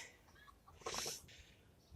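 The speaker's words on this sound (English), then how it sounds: "Chickens are having a bit of fun." Faint, quiet clucking of chickens with a brief louder rustle or flutter in the middle, heard from a little distance outdoors on a UK allotment.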